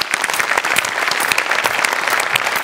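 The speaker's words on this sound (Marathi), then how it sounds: "एकदा सगळ्यांकरता टाळ्या होऊन जाऊ दे" A comedy show's studio audience gives loud, close, vigorous applause, crisp individual claps packed into a steady rolling ovation with no talking.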